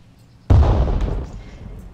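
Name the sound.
explosions in the video game Arma 3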